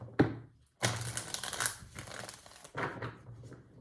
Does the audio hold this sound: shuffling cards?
yes